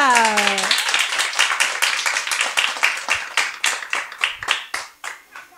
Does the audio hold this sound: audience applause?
yes